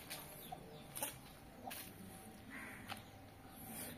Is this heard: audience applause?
no